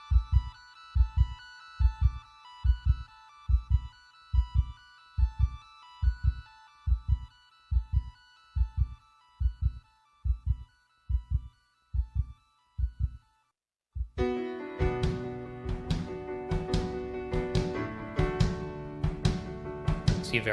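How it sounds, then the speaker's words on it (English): A steady heartbeat thump pulses through the opening of a rock-opera track, under a sustained synth pad, evenly paced double beats until the full band crashes in loudly near the end. "you have your heartbeat kind of setting the pace for the next song"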